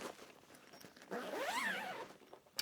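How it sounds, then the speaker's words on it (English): The zipper of an AmazonBasics 70-inch pistol grip tripod bag pulled steadily open in one long rising sweep, close and clear against a quiet room. "Zipper goes all the way down."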